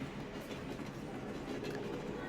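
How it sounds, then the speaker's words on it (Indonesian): A train rumbles past close by, a loud continuous roar of engine and wheels with rhythmic clattering on the rails. "Kereta datang. Deru mesinnya seperti memotong nafas."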